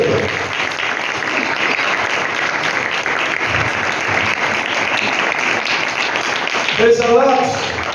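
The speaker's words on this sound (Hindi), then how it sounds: "जोरदार तालियां मेरे यीशु के लिए" Loud, sustained applause from a large crowd at a Sunday church service fills the whole stretch, with a brief swell of cheering voices near the end.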